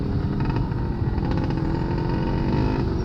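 A motorcycle fitted with an aftermarket exhaust pipe drones close by with a loud, gritty exhaust note and slight surges in revs, steady and continuous with no talking.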